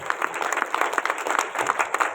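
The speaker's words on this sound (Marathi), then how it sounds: "जोरदार बहारदार टाळ्या झाल्या पाहिजेत." An audience at a community association's 75th anniversary ceremony applauds, giving a brief burst of dense, even clapping heard at moderate distance with no pauses.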